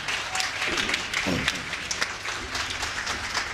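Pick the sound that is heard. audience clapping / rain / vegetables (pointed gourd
audience clapping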